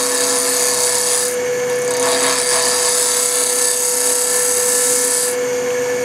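Skew chisel cutting a four-sided wooden piece spinning between centers on a lathe at raised speed, a steady close whirring rasp with intermittent scraping bursts from the blade striking the square corners, continuous throughout.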